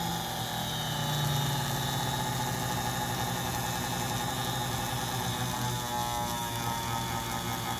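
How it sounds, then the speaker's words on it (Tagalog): A medical equipment motor on a speed controller board runs fast, giving a steady, even electric whine and hum with layered tones that hold constant throughout. "As you can see, the RPM of the motor is very, very fast."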